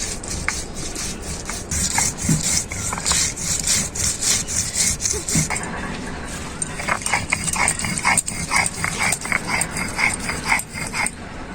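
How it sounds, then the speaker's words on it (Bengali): Ginger, coriander, cumin and black pepper are ground together on a grinding stone, making a steady rhythmic scraping and rubbing that repeats back and forth close by without pause. "প্রথমে আদা এখানে আছে ধনে জিরে গোলমরিচ একসাথে বেটে নেবো"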